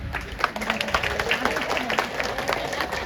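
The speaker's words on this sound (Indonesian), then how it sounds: "Tepuk tangan buat nenek" Audience at an Isra Mi'raj gathering in a prayer hall claps for a grandmother, a brief scattered patter of hands over 3 seconds with crowd murmur and a voice talking underneath.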